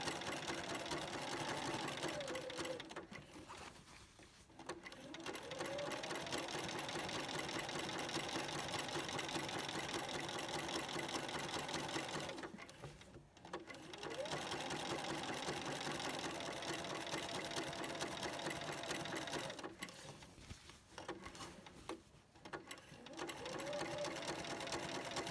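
A sewing machine stitches an orange peel applique border, running in a steady fast mechanical hum for long stretches and stopping briefly twice before starting again.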